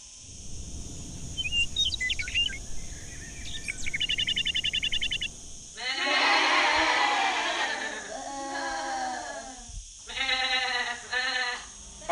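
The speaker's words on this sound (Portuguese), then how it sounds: "As cabras saltam de pedra em pedra e andam às marradas." Goats in a mountain valley by the rivers bleat in several wavering calls, mid-distance and fairly loud, with chirping birdsong and a whistling tone before them.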